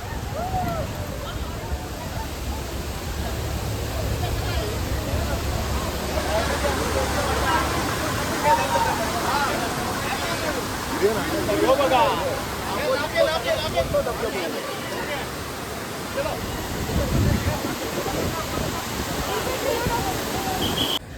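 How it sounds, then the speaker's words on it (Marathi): A steady, rushing roar of falling water from the main waterfall at Amboli fills the scene, with a Sunday crowd's murmur and voices of people talking over it. "आणि आम्ही पोचलो मेन धबधब्याकडे."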